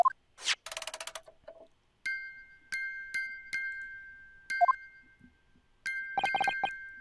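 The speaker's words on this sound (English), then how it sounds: "the sound emanating from this music box is broken" A broken music box in The Great Ace Attorney Chronicles plays a halting run of bright metallic chimes, single struck tones and short sustained rings separated by gaps, clear and close with no voices.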